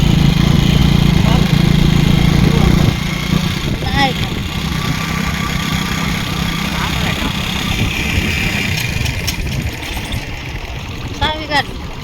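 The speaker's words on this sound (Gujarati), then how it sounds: "જો બાઈક આપણે એમ હાલે જો" A motorbike engine idles and runs steadily nearby on a farm, its low rumble continuing throughout with brief louder revving moments and faint background noise.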